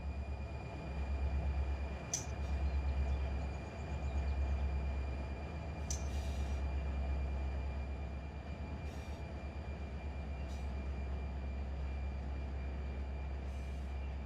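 Freight train in the Run 8 train simulator game on a quiet Sunday line, a steady low rumble of rolling wagons holding for the whole stretch, with a couple of faint clanks.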